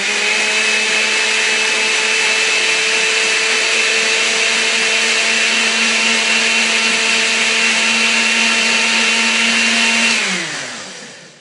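A blender runs on high grinding flaxseed, a loud steady motor whine with gritty churning that holds for about ten seconds, then winds down as it is switched off.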